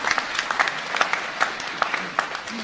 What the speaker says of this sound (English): I'll tell him we gave him a wee round of applause.